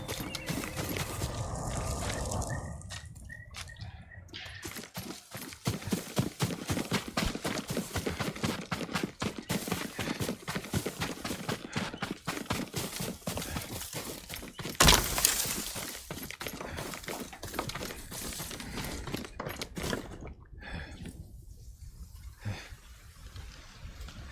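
A horse neighs and its hooves clip-clop in the samurai video game Ghost of Tsushima, with irregular hoofbeats and whinnies amid shifting, fairly quiet ambience, plus a brief sharp shattering burst partway through.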